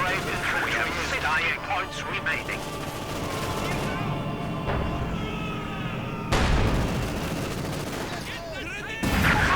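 Company of Heroes 2 battle sounds: bursts of gunfire and booming blasts with loud clusters of shots, mixed under continuous commentary talk and in-game voice lines.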